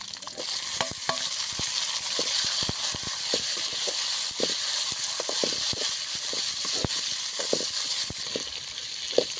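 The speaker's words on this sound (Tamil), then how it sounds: "இப்போ எல்லாத்தையும் ஒன்றா போட்டு நல்லா வதக்கிக்கலாம்" Chopped onion and tomato with garlic and ginger sizzle steadily in a hot oiled pan, with frequent sharp clicks and scrapes of a spoon stirring against the metal throughout.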